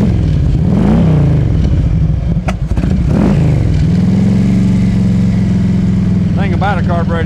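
Carbureted Harley-Davidson Road King FLHR motorcycle engine cranks and fires, stumbling briefly before settling into a loud, steady, close-up idle with the lumpy V-twin rumble.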